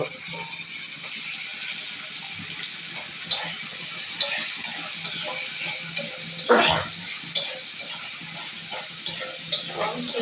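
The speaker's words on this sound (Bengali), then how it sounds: "চিংড়ি মাছটা পেঁয়াজের সাথে ছেড়ে দিল ছেড়ে নাড়াচাড়া করতেছে" Shrimp and onions frying in a pan while being stirred, a steady sizzle broken by repeated scrapes and clinks of a utensil against the metal, close and fairly loud, with no talk.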